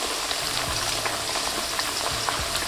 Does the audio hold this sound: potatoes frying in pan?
yes